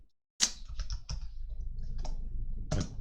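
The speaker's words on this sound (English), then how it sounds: "I'm just going to start typing out." Keys clatter on a computer keyboard in bursts of quick, close taps after a brief silence, with louder strokes standing out and no one speaking.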